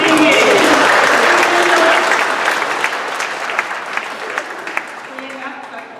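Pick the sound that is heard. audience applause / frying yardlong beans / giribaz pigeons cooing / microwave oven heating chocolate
audience applause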